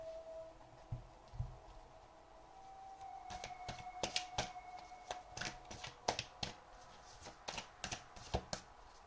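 Tarot cards being shuffled in quick, crisp bursts of riffling and slapping, close and clear with no talking.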